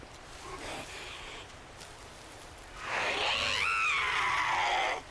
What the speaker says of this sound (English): Now there's a screamer because the house fell down